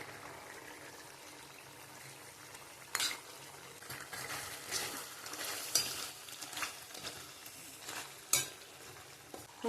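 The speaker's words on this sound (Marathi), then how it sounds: "मटण छान परतले आता काळ्या मसाल्यात।" Mutton sautés in black masala with coconut in a pan, a quiet steady sizzle broken by scattered spoon scrapes and clinks as it is stirred, with no talk.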